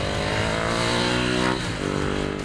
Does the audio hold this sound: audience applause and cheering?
no